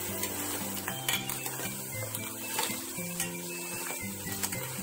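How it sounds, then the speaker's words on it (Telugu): Crabs frying in oil in a pan for a curry, a steady close sizzle with stirring scrapes and occasional clinks, alone without speech. "మంచిగా ఇలా ఆయిల్లోన వేపుకోవాలి"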